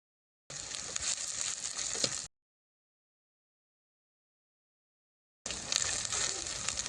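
Garlic, green chilli and ginger paste sizzles loudly in a pan with browned onions, two close, steady frying bursts separated by a stretch of complete silence.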